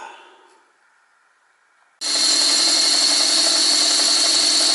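A metalworking lathe machines a cast flywheel for a small flame eater engine, cutting in abruptly after a quiet stretch and holding a loud, steady, bright hiss with a ringing tone.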